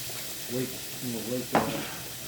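Worcestershire sauce poured into a sizzling pan of vegan meatless spaghetti sauce, giving a soft frying hiss with a short sharp sizzle burst near the end, while a voice speaks briefly under it.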